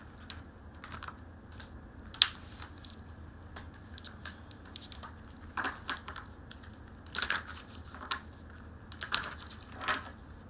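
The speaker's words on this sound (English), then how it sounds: "so I'm shuffling the cards" Soft, irregular papery flicks and riffles of tarot cards being shuffled, close and quiet, in short bursts with pauses between.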